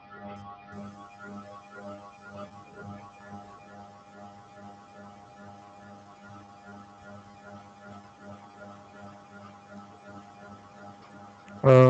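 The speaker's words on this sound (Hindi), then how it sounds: "सर एक्चुअली वो पंखे की आवाज़ है।" An electric fan in the background of an online session gives a steady, low humming drone with faint fluttering that runs the whole time, ending in a sudden loud thump.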